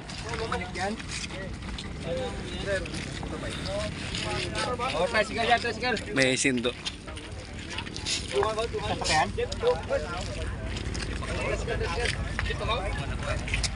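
A boat engine drones steadily under wind buffeting and water noise off Santa Fe, Tablas, Romblon, with people talking loudly over it throughout.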